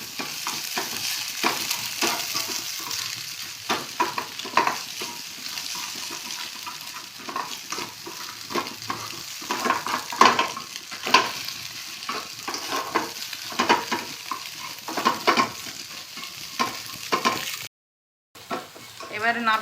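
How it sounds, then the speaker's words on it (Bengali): Crumbled egg with a little salt fries in a pan, a steady sizzle broken by repeated scraping stirs, close and clear with a brief pause near the end. "সামান্য একটু নুন দিয়ে দেবে, এতে একটু আর একটু ভাজতে হবে"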